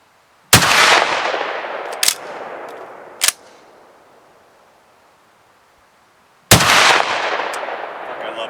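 Two loud, sharp blasts from a short-barreled Akkar Churchill 12 gauge shotgun fired outdoors, several seconds apart, each followed by a long echoing tail, with smaller clicks and knocks of handling between them.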